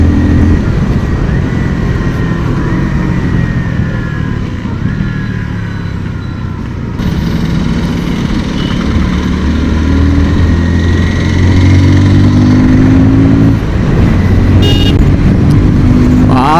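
A 2025 KTM Duke 160 motorcycle being ridden, its engine droning loudly and continuously under heavy wind and road noise, close to the rider.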